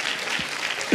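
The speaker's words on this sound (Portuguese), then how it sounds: "Dá uma salva de palmas a Jesus." Brief burst of applause from a church congregation, steady clapping throughout with a louder clap at the very end.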